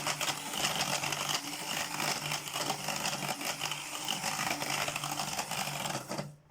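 An electric mixer beats cake batter with a steady, dense whirring buzz that holds constant for several seconds and then cuts off abruptly at the end.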